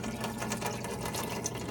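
A tiny clearance pond pump recirculates water back into the sink of a homemade kids' outdoor water table, producing a steady, continuous watery rush and hum with no pauses.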